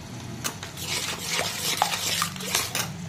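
Salt, turmeric and chili powder fry in a hot pan for a silver pomfret curry, with a spoon scraping and clinking against the metal over a continuous soft sizzle.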